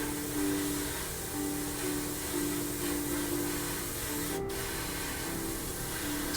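Continuous hissing spray of white paint at close range onto a Su-35S Flanker-E scale model, steady throughout, with a brief sharper burst partway through.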